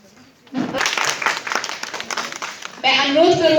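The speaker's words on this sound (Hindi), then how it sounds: "कृपया कंजूसी ना करें। जोरदार तालियों।" Crowd applause at a women's gathering in a Kathua BJP district office, rising suddenly into a few seconds of dense clapping, then giving way to someone speaking loudly into a microphone.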